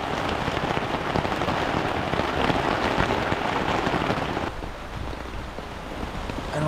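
Rain falls at a seaside campsite where mountains meet the sea: a dense, loud, steady hiss of drops on surfaces, easing slightly near the end, with no voices.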